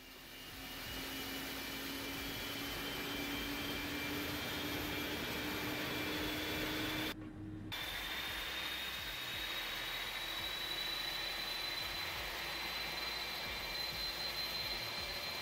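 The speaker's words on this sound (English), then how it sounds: "That engine has stabilized, as you can see, all looking good there." A steady, loud whine from an Airbus A300 freighter jet engine as it starts up in the X-Plane 11 flight simulator, a constant roar with a high tone rising slowly and one brief dropout midway.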